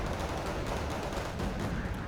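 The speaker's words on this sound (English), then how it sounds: "The LSCRs just getting pounded by AML-60s." AML-60 scout-car artillery fires in the war game Wargame: Red Dragon, a dense, continuous barrage of booming blasts and rumbling impacts that runs loud without a break for about two seconds.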